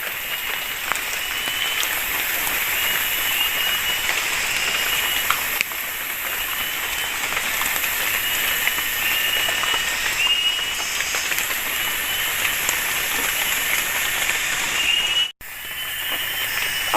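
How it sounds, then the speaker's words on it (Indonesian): Heavy rain pours steadily on a tree house in a forest, a dense continuous hiss that is loud and unbroken throughout. "Hujan guys, hujan."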